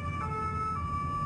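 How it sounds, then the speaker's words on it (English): Police sirens wail through the streets of Toulouse during an armed siege in a wet morning, a steady sustained tone continuing over low traffic rumble, fairly distant and echoing. "the wail of sirens echoing"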